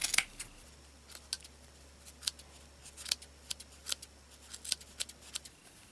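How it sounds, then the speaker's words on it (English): Small scissors snip repeatedly through the yarn side loops of a tiny crocheted hat, a quick series of crisp, close, light cuts spaced unevenly, with no voices. "So just cut through all the side loops."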